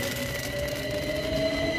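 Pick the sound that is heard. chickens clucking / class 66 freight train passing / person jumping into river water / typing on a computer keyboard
class 66 freight train passing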